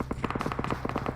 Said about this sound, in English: you can hear the gunfire in the background popping off like firecrackers